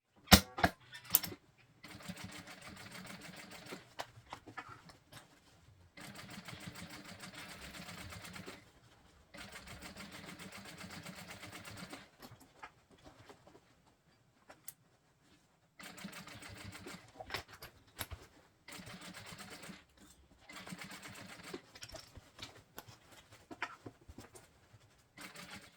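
An industrial sewing machine topstitches around a small handbag, running in several rapid, rattling bursts separated by short pauses, close and moderately loud.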